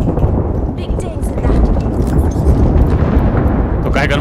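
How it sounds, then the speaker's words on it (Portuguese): Airstrike explosions in Apex Legends: loud, continuous rumbling blasts roll on for several seconds, close and heavy, with game noise over them. "O airstrike é seu?"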